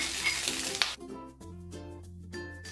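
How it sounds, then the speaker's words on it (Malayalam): Butter melting in a heavy-bottomed cast iron pan gives a soft, steady sizzle, with a few close utensil clinks and pan handling sounds early on. "ചുവട് കട്ടിയുള്ള ഒരു പാൻ അടുപ്പത്ത് വെച്ചിട്ട് ഇതിലേക്ക് ഞാൻ 50 ഗ്രാം ബട്ടർ ഇട്ട് കൊടുക്കുകയാണ്"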